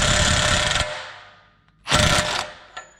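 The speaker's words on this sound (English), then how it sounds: "I'm gonna be backing off the axle nut, 175 foot-pounds. This takes a lot of power from an impact wrench." An impact wrench hammers loose the 175 foot-pound axle nut on a 1998 Toyota 4Runner, a loud close rattling burst, a pause, then a second shorter burst.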